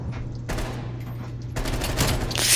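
Gunfire in the Call of Duty video game, loud bursts of rapid automatic fire over a constant background hum, intensifying toward the end.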